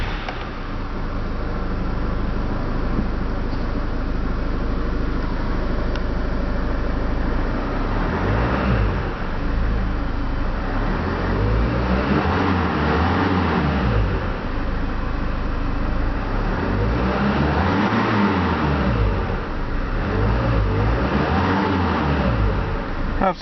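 A 2012 Range Rover Evoque engine starts and runs steadily, then revs up and settles in repeated surges, loud and close, with no talking.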